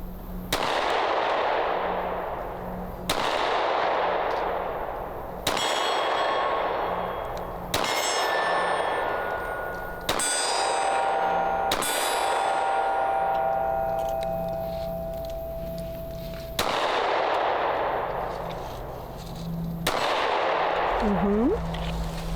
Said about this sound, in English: This is the 6 hour P365 X Macro. Just a few rounds, like 6-7 rounds.